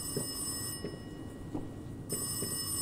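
A telephone in the horror video game Rise of Insanity rings in a steady repeating pattern, moderately loud over a constant eerie background hum, with no talking.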